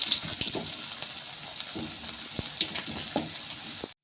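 Rounds of bitter gourd sizzle steadily as they fry in hot oil in a pan, a continuous crackling hiss broken by a few sharp clinks and knocks, close and loud with no voices.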